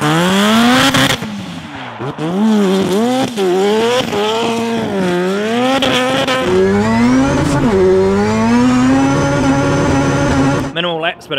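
A 1400hp Mazda 3 time attack car drifts, its engine loud and close with repeated rising and falling revs and sharp throttle blips throughout, a voice talking over it.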